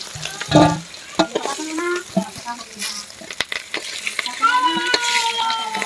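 Prawns frying in hot oil with crackling sizzle, punctuated by scraping and clinking of a utensil against the pan, a faint voice briefly audible.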